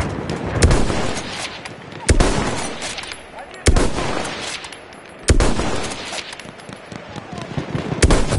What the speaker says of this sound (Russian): Пулемет! Фрицы!